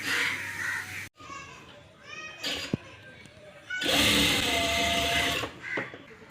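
A sewing machine stitches a churidar sleeve at the shoulder, its loud buzzing whir running in bursts between pauses, with voices speaking nearby.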